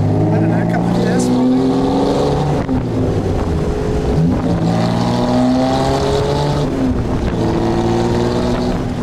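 A Jaguar XK120 roadster from the Alpine Rally drives along, its engine a steady droning hum with shifting harmonics throughout, while people talk over it inside the car.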